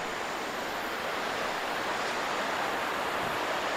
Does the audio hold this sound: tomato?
no